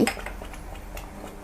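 Stirring thick banana paste cooked with fresh coconut milk in a pan, a single close scrape and clink of the utensil against the metal followed by soft, low sticky stirring.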